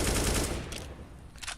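A sustained spray of automatic fire in Counter-Strike opens loud and close, then gives way to quieter scattered shots and faint clatter.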